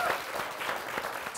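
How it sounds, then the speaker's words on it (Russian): An audience at a talk show applauds steadily, with dense clapping that carries on throughout. "Друзья, прошу ваши овации."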